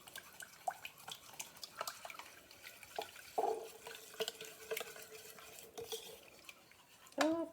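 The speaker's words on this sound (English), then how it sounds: "I'm going to take my whisk." Soy sauce dressing is whisked in a bowl with quiet, irregular scraping and light clinks of a whisk against the bowl. A few louder knocks and a brief sharper clatter come near the end, all faint and close with no talk.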